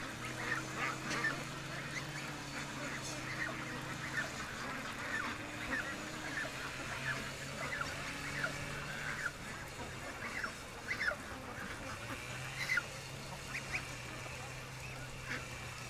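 A busy chorus of geese honking repeatedly in the distance, overlapping calls mixed with a low steady hum, no clear voices.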